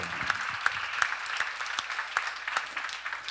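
A church congregation applauds during a sermon, the clapping faint and distant, with a few sharper claps standing out over a soft, steady wash for a few seconds.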